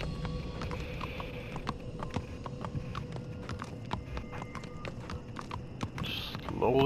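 Horse hooves walking along a path in The Walking Dead video game, steady clip-clop steps at an even pace over a quiet outdoor ambience, with a louder burst of sound right at the end.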